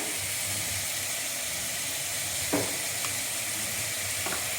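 Ginger garlic paste sizzles and crackles in hot oil in a pan for beetroot salna, a continuous dense frying hiss with a couple of brief utensil scrapes while it is stirred.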